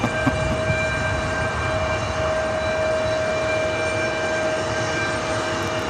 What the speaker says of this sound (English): Are these E-jets really this loud?